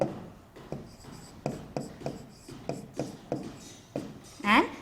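Chalk taps and scrapes on a classroom board as numbers are written during a seventh-grade maths lesson, a series of short, evenly spaced strokes, fairly faint, with a brief squeak at the end.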